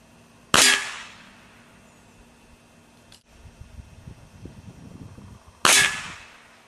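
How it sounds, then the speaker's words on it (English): Benjamin Discovery .22 air rifle fires JSB Diabolo Exact pellets at a 25-yard target; two sharp, loud cracks several seconds apart, with a faint mechanical click and low handling noise between them. "This first shot group was shot with JSB Diabolo Exact 22 caliber pellets"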